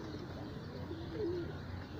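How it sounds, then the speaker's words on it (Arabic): Pigeons cooing at a loft, a soft low coo standing out over steady background noise, with no talk. "هذا الحمام اهو ابتدي بقى اللي هو يحط."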